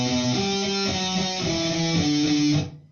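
A distorted electric guitar in drop B tuning plays a low, chugging riff of shifting notes, loud and close, ringing out at the end.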